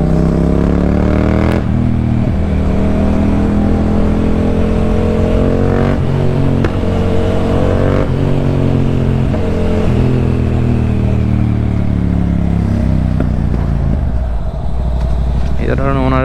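A loud motorcycle exhaust rumbles and revs continuously while riding on a night road, the engine note rising and falling with gear changes, close and dominant throughout.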